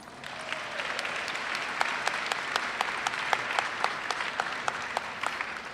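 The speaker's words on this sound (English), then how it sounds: "Let's give all of our students recipients a big round of applause." Audience applause at a university honors convocation, a sustained wash of many hands clapping with sharp individual claps standing out, steady and close for the whole stretch.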